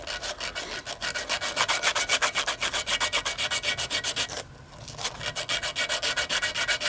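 A wooden hammer handle for a restored framing hammer is bevelled by sanding, a close, rhythmic back-and-forth rasping of quick even strokes with one short pause partway through and no voices.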